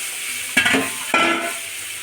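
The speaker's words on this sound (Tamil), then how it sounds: "இப்போ புளியை கரைச்சி உள்ள ஊற்றிக்கிடலாம்." Dissolved tamarind water poured into a hot pan while making tamarind rice, two short close splashes that break into a brief sizzle and then settle.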